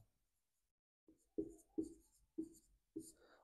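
Pen or chalk writing during a Punjabi grammar class, heard as four distinct scratchy strokes after a second of near silence, fairly close and not overlaid by speech.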